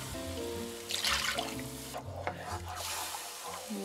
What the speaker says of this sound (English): I'm just going to stir it with the mushrooms